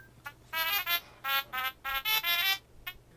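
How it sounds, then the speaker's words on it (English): A short, bright electronic melody of bouncy beeping notes in a quick rhythm, a Mario-like chiptune theme from a Nintendo DSi's small speaker, with no talking. "It sounds like the Mario theme."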